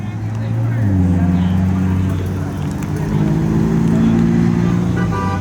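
McLaren supercars roll in at a 2019 exotic car meet, their engines a loud, continuous rumble with rising and falling revs close by, while people talk over them.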